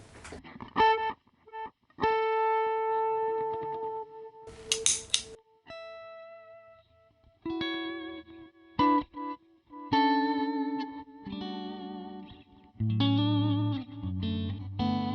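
An electric guitar played through a budget delay pedal set to reverse gives sustained notes and chords that swell in and smear into washy reversed repeats, with gaps between phrases and no talking.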